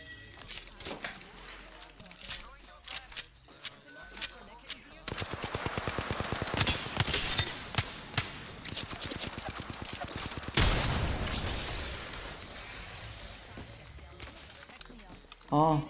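Gunfire in a shooter video game, first as single scattered shots, then dense rapid automatic bursts that build into a loud sustained barrage, with a voice talking over it.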